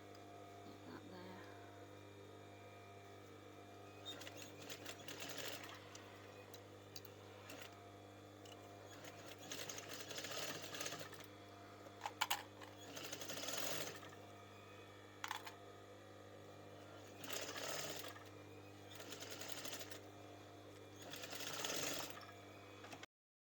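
Sewing machine stitching a bow onto a pillow slip, faint bursts of whirring stitching in short runs separated by quiet pauses over a low mains hum.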